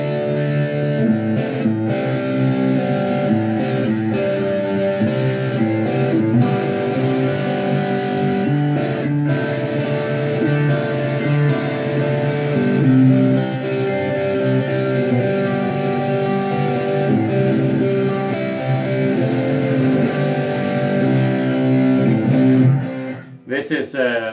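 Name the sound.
electric guitar through amp distortion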